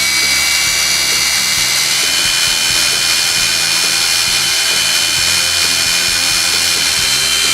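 Hitachi brushed and brushless cordless power tools run with no load, making a loud, steady, continuous high motor whine that does not change from start to end.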